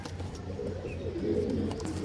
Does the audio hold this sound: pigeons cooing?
yes